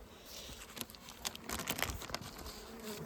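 A honeybee colony buzzes in an open hive during spring treatment against mites, a steady close hum dotted with brief crackles and rustles, with no voices.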